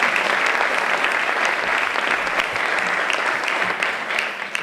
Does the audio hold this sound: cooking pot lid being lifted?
no